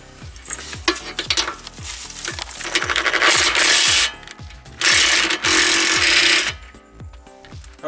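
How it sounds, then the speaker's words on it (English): Pneumatic impact wrench hammering off a rear strut nut on a Hyundai Elantra: a short burst, then two longer loud rattling runs with brief pauses, set against a steady rhythmic clicking. "I'll just get the impact,"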